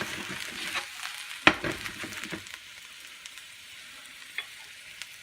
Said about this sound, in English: So I'm going to add my garlic now